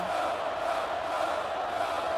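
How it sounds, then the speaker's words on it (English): A stadium crowd roars steadily through a football semifinal between the Vipers and Rhinos, a dense continuous wash of cheering and shouting with no break. "The crowd's cheering go."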